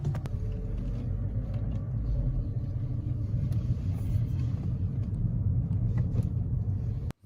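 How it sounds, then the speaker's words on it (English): A manual-transmission car rolls around a parking lot in first gear. A steady, close engine rumble holds throughout and cuts off abruptly at the very end, with no voices. "Once you're going in first gear, just cruise around the parking lot like normal"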